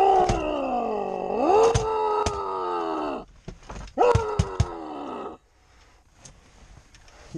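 An aggressive sow grunts and groans loudly near by during kit extraction, with long moaning vocal calls broken by sharp knocks and thumps, then a quieter stretch.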